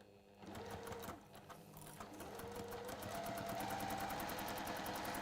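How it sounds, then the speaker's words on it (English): A sewing machine stitches a quarter-inch seam, its needle motor whirring steadily and close, rising slightly in speed as the stitching runs on without pause. "we're just going to stitch 1/4 of an inch seam, down we go"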